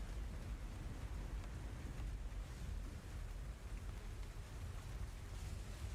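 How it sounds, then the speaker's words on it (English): Steady rain falling outside, a dense continuous hiss with a low rumbling undertone and no clear breaks, sounding close and even throughout. "You can kind of hear from outside over the sound of the rain."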